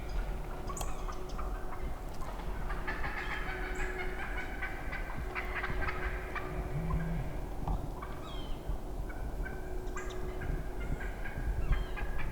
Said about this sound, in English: Good old flock of winter hens